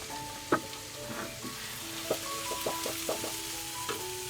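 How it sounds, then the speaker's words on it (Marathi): Four onions sautéing in hot oil with mustard seeds, cumin and ginger-garlic paste for pav bhaji, a steady soft sizzle under light stirring knocks and faint clinks. "तर इकडे ना कांदा आता मस्त परतावून झालेला आहे"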